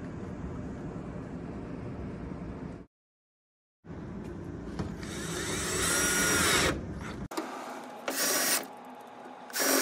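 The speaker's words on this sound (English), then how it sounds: "it'll give us access to shoot the 4 screws in this side and the 4 number 1 screws in this side" A power driver whines in several loud bursts as it drives screws into the frame of a fixed-height teacher's desk during assembly, with short pauses between runs.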